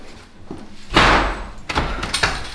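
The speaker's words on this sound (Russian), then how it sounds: "Это кто тут дверьми хлопает" A door slams shut with a heavy, sharp bang, followed by a couple of softer knocks and rattles as it settles.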